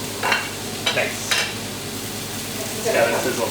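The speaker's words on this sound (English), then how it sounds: "It's got a sizzle to it." A sous vide wagyu steak sizzles quietly in a hot pan, with a soft steady frying hiss broken by a few brief clinks and scrapes of cookware.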